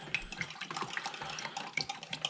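Warm tap water runs steadily into a container while sugar syrup is being mixed for bees, a close, continuous splashing stream with small bright droplet spatters and no voices.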